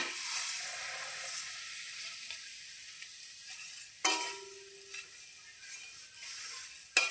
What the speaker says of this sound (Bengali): ঘি গরম হয়ে গেছে দিয়ে দিচ্ছি সেমইগুলো